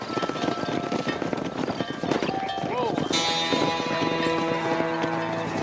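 Clip-clopping hooves of a herd of horses in the Red Dead Redemption western game, a steady busy patter of many hooves running together under game music and ambient noise.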